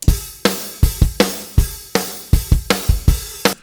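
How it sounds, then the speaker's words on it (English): A rock drum kit plays a steady beat from a stereo recording bounced off a multitrack, punchy kicks and snare hits with crashing cymbals, close and loud with no other instruments. "It's just a stereo drum track that I bounced off a multi-track that I had"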